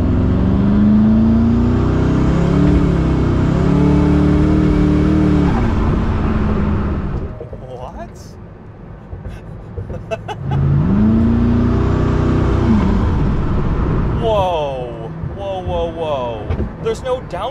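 Koenigsegg Regera hypercar with no transmission, 1500 hp, pulling hard in two long loud surges of rising engine and electric whine, separated by a quieter lull, with someone talking in between.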